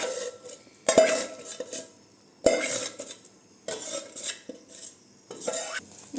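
A ladle stirs boondi laddu mixture in a metal pot, making repeated scraping, clinking strokes in an uneven rhythm, close and moderately loud, with no talking.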